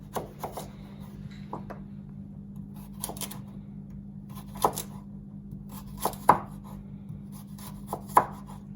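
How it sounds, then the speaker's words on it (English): A knife slices vegetables for spring rolls on a cutting board, giving irregular crisp knocks spaced a second or so apart, close and fairly quiet over a steady low hum. "I'm going to do some slices, so now we need to go to claw"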